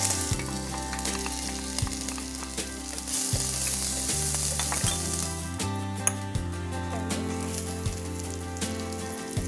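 Mustard seeds, fenugreek seeds, ginger and garlic sizzle in hot oil as a loud, steady frying hiss with faint crackles and occasional stirring knocks, close up and without talk.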